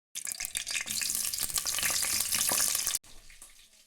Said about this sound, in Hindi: अब इसमें सिंपल फ्राई प्याज डालूंगी, ऑयल डालूंगी